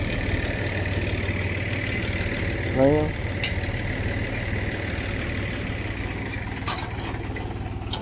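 A tractor idles in a field with a low, steady engine rumble throughout, while someone speaks briefly over it partway through.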